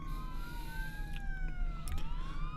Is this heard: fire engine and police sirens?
yes